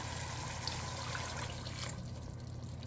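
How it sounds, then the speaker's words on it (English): Water pours steadily into a pan of turkey kofta curry with tomatoes over medium heat, a continuous close splashing hiss that thins out toward the end. "We're gonna put 3/4 of a can of water."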